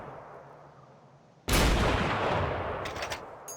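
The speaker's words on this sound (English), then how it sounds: "if you fire pretty close, then you can hear the massive sound of the boy's rifle" A Boys anti-tank rifle fires a single massive, close shot in Forgotten Hope 2. The sharp blast cuts in suddenly and leaves a long, rumbling echo, followed by faint metallic clinks.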